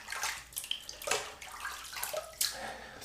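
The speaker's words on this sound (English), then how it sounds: "All right, rinse my hands." Water splashes and rinses over hands at a sink during a wet shave with duck fat shave soap, a few uneven close bursts of running and splashing water, no talking.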